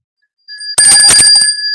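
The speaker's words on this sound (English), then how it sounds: "And you can ring the bell for yourself" A bicycle-style bell is struck once on a weather podcast, ringing loudly and close with a bright metallic tone that rings on and slowly fades.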